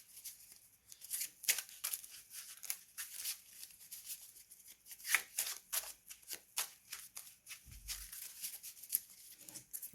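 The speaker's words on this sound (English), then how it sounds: "Shuffle everything to death." A Yu-Gi-Oh card deck shuffled by hand, with repeated quick riffles and soft card slaps in a steady rhythm, close and fairly quiet.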